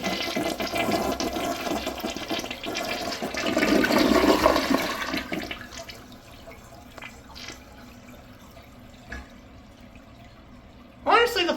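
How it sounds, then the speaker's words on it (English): An American Standard Cadet 1.6 gallon toilet flushes with a loud rushing swirl that peaks and then drains away into quieter trickling and refill hiss, ending in a brief sharp gurgle. "Let's have a look at a flush."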